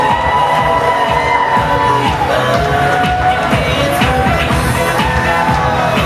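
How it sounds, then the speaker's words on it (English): Wedding reception guests cheer and whoop for the groom's parents as the father and mother are introduced, a loud, steady wash of crowd noise filling the room from start to finish. "how about a big round of applause for our father of the groom, Doug Bauer, escorting his wife"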